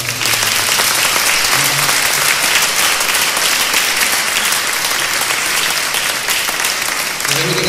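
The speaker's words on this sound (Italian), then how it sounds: "facciamo un bel applauso" Loud, full applause from an audience in a church fills the space continuously, a dense wall of many hands clapping close by with faint crowd murmur underneath and no clear speech.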